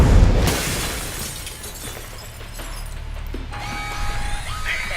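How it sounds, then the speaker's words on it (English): Glass shatters in the spy game Alpha Protocol, a loud close crash at the start that trails into scattered debris and a low rumbling game ambience with a faint electronic tone. "But you might be able to find a way to break the glass."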